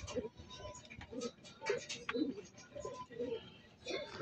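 Pigeons coo softly in a repeated low, rhythmic pattern, close by but quiet, with faint background noise and a little chirping mixed in.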